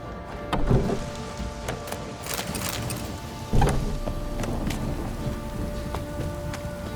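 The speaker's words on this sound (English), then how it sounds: "This downpour's a bastard" Heavy rain pouring steadily in the video game The Witcher 3: Wild Hunt, with a couple of deep thumping rumbles, a dense continuous wash of noise.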